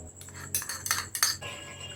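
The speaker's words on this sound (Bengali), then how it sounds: "দইটা দিয়ে আমি এইভাবে কিছুক্ষণ নাড়াচাড়া করে নিচ্ছি" Yogurt stirred into potol (pointed gourd) curry in a pan, with a few sharp scraping clinks of a utensil against the pan close by, coming in short bursts over a low background hum, no voices.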